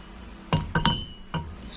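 Metal front hub set onto a new brake rotor during a Willys front disc brake conversion: a few sharp metallic clinks and knocks, close and clear, spaced irregularly over under two seconds.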